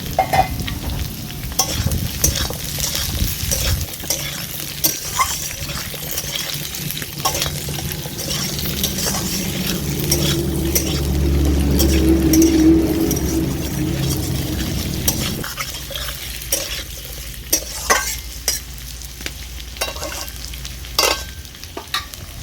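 Long sliced potato pieces tumble into onions frying in a pan for a rui fish curry, a loud sizzle swelling as they land, followed by scraping stirs and ongoing crackle with no voices.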